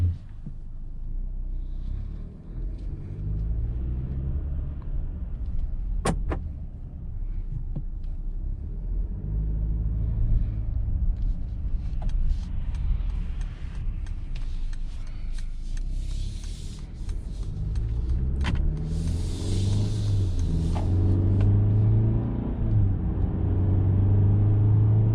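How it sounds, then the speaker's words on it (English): A 2021 Mercedes-Benz GLE 350 on the road, heard from inside the cabin as a smooth, steady low engine and tyre rumble with a few brief clicks and thumps. "driving this 2021 Mercedes-Benz GLE 350"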